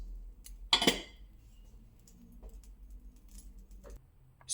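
A pot of Tahdig being moved onto a smaller stove, giving one sharp metallic clank with a short rattle, then quiet handling with faint taps and a final knock, all in a quiet kitchen.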